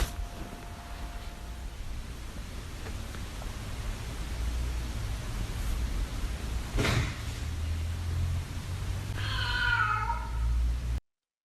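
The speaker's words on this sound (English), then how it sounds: "that's just a cat that broke in" A cat that has broken into a house gives a single short meow near the end, over a steady background hiss, with a brief thump a few seconds earlier.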